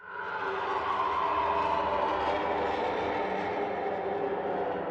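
Sylenth1 synth preset Animated Cadavers, an ominous, dark, creepy textured drone that sustains densely and evenly at moderate loudness for several seconds, with no voices.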